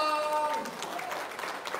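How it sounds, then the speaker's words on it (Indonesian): Audience applause at an Indonesian religious talk, a brief soft spatter of clapping that rises as a held tone fades, moderately faint and fairly even. "Wow, tepuk tangan dong."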